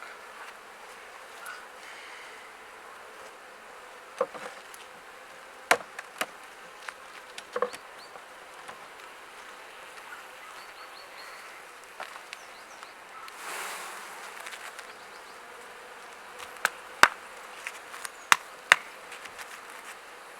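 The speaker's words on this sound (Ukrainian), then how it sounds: "І так от потихеньку я перетрушую бджіл." Honey bees buzz faintly and continuously while being shaken off hive frames, with scattered sharp knocks and clicks of wooden frames and hive parts, loudest near the end.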